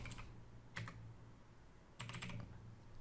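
A search is typed on a computer keyboard in three short bursts of soft, close key clicks separated by pauses, quiet and with no talk.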